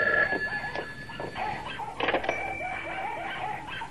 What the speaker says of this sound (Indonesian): Wah, ada telepon.